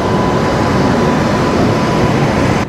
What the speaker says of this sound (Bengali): তো আমাদের ট্রেন চলে আসলো।